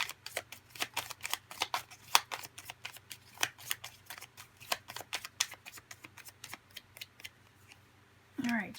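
Tarot cards are drawn and slid from a pile in quick, crisp flicks and snaps, a close, dry rhythm of rapid rustles, ending with a brief burst of handling.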